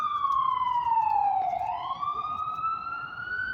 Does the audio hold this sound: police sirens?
yes